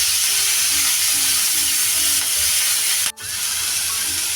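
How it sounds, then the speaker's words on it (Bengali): Chicken and prawns fry in hot oil with a loud, continuous close-up sizzle and hiss that briefly cuts out near the end before resuming. "তেলে ছেড়ে দিলাম চিকেনটা, চিংড়ি মাছটা"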